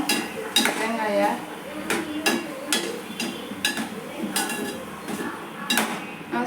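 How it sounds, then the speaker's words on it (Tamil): Spoon scraping and clinking against a cooking pan while grated coconut is stirred into a sundal dish, a steady series of close metallic knocks and scrapes with a faint sizzle underneath. "நல்லா அப்படியே ஒரு கொஞ்சம் கிண்டி விட்டுக்கணும் தேங்காயை."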